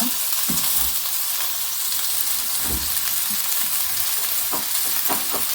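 Butter melting into hot oil with garlic already in the pan, giving a steady loud sizzle and frying hiss throughout, with a few soft clicks and stirring taps scattered across it and no voices.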